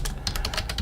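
Rapid typing on a computer keyboard, a quick run of close, crisp key clicks with no voice over them.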